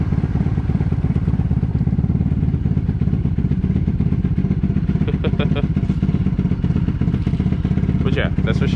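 A 1997 Honda Magna motorcycle, cold in the morning, with its engine running close by in a loud, steady throbbing idle, a few light clattering ticks and knocks over it near the end.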